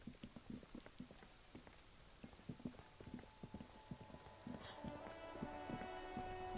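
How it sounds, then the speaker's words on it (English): Rain in the video game Disco Elysium, a steady patter of drops with irregular knocking taps that thicken into a denser wash and faint tonal hum toward the end, no talk. "It's raining again."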